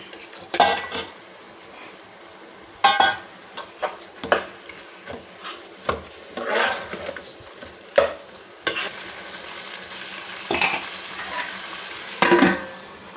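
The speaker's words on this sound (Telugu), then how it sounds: "టమాటా గోంగూర ఇప్పుడు కలిపి పక్కన పెట్టుకున్న చికెన్ వేసుకుందాం" Chicken being stirred into a softened tomato and gongura mixture in a pan, with scraping spoon strokes and clanks against metal in irregular bursts over a low sizzle, close and fairly loud, no talking.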